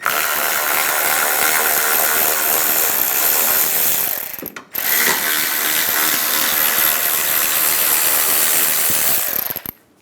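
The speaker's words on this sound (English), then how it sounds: "Using a 10mm socket, remove the two bolts on the top of the headlight" A ratchet with a 10mm socket clicks steadily while loosening the top headlight bolts on a 2007-2017 Ford Expedition, loud and close, with a brief pause midway before the rapid ratcheting resumes.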